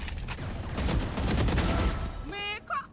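Rapid gunfire in the video game Valorant during a college esports match, a dense loud burst of shots over crowd-free game audio, with an excited commentator talking throughout.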